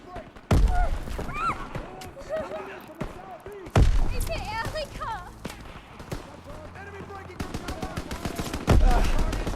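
Gunfire in Call of Duty WW2 cracks out in sharp, loud bursts and scattered shots, while voices talk over the action throughout.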